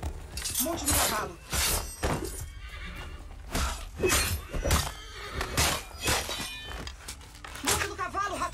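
A horse whinnies several times in Assassin's Creed III Remastered, the calls rising over busy game sounds with clattering and crashing bursts while a voice speaks.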